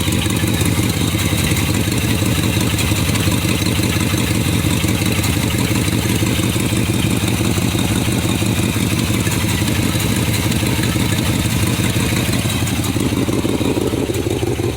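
The engine of a 1959 Edsel with heavy exhaust leaks runs steadily at idle, a loud, constant rumble with a rapid ticking, puffing clatter that continues unbroken for the whole stretch, with no voices.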